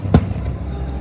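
A single firework bursts with a dull thump at an evening July 4th celebration in the United States, heard at a distance over steady crowd ambience.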